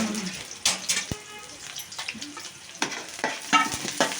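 Onions and tomatoes fry in a pan with a soft, low crackle while a utensil scrapes and stirs in irregular knocks; a voice speaks briefly underneath.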